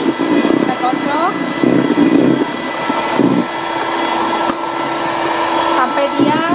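Electric mixer whipping chocolate chiffon cake batter, a steady motor whir with the beaters rising and dipping in pitch, under a speaking voice.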